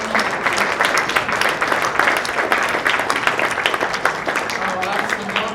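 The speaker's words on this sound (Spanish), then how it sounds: "Denle un aplauso al Señor" A church congregation applauds during a worship service, a dense, sustained wave of clapping from many hands filling the room, with a preacher's voice over it.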